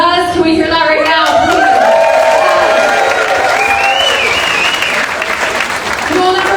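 An audience at a charity auction gala breaks into applause and cheers. The clapping and crowd noise hold steady for several seconds while a voice carries over the top.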